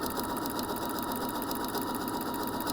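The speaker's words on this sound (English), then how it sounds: "then we're going to sew down along the side" Sewing machine stitching down the side of a fabric scrunchie, a steady fast mechanical whir and needle chatter, close and continuous with no talking.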